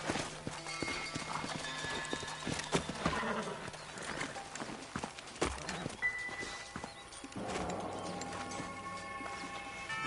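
Horse hooves clip-clopping over ground in the Red Dead Redemption video game, with an occasional whinny, close and fairly quiet over ambient game sounds and music.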